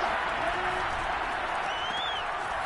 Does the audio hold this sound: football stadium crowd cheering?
yes